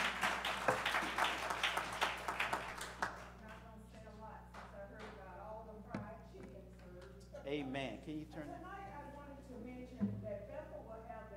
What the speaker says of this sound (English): give Sister Brown a hand clap of praise